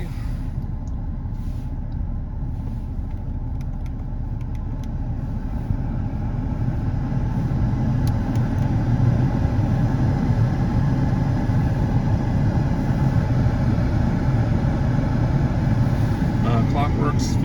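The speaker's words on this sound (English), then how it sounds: "Let's turn the AC on. AC is on. Let's put on recirculate. Still idling okay." A 1994 Audi S4 engine idles steadily with the air conditioning switched on, a continuous low rumble heard from inside the cabin, with a person talking over it.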